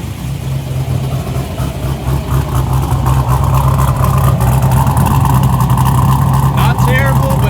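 A barn-find car's engine runs steadily through MagnaFlow mufflers, a constant low rumble with a loud, even idle throughout, while a person talks over it.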